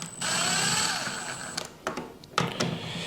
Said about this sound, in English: So I'm using a Torx T20 bit. On an electric driver